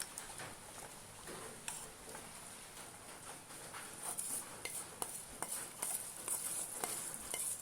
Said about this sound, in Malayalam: നല്ലതുപോലെ ഒന്ന് മിക്സ് ചെയ്ത് കൊടുക്കാം